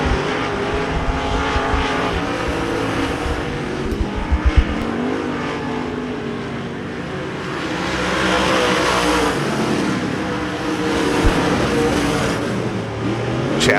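Race cars roar down the back straightaway at Devil's Bowl Speedway, a dense continuous wash of engines swelling and fading as the pack passes, with a faint announcer's voice underneath.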